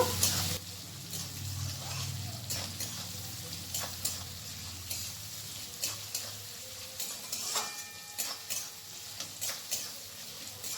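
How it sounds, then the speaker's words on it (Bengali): Chopped onion frying until reddish in a pan for a Bengali chana dal, a soft sizzle under stirring scrapes and clinks of a spoon against the pot, close up and without talk. "পেঁয়াজটাকে আমি এখানে লাল লাল করে ভেজে নেব"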